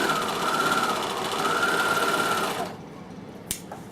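A sewing machine runs steadily while stitching fabric around a curve, a loud continuous mechanical hum that stops partway through, followed by quiet and a brief click.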